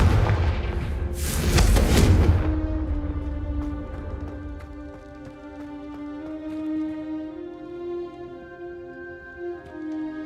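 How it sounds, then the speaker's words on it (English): A Confringo blasting curse from Hogwarts Legacy erupts in a loud, booming burst lasting about a second, then fades into a steady musical game score. "I suspect a bit more time practicing the blasting curse is in order."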